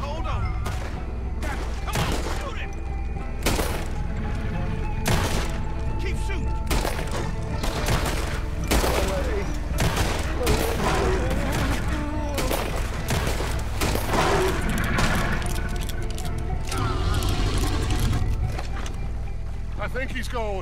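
Sharp shots fired at an alligator in Red Dead Redemption 2, a cluster of loud cracks early on and more scattered later, over continuous game ambience and frequent spoken dialogue.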